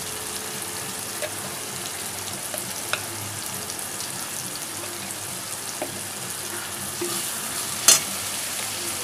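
Spices with coriander powder, turmeric and chilli powder fry in a pan for a potato, pointed gourd and prawn curry, giving a steady, even sizzle throughout with a brief scrape of stirring near the end.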